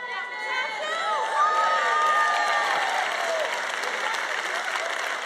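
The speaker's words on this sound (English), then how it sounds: "You hear the people in the background cheering, clapping" Audience in the background cheering and clapping steadily throughout, a dense wash of applause with shouts and whistling voices on top, moderately loud and sustained.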